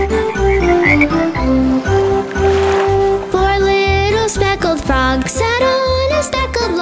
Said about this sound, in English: Then there were three green speckled frogs. Glug, glug.